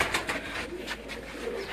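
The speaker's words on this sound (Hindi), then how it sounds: "ये एक और ब्रीड का कबूतर, जुगनू ब्रीड का कबूतर" Jugnu breed pigeon cooing close by, a few soft repeated coos in quick succession over light background noise, with no voices.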